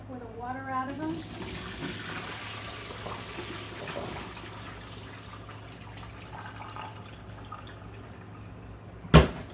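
Water from a tap splashes and pours steadily over freshly picked green beans being washed in a sink, a continuous running rush at close range with a brief louder clatter near the end.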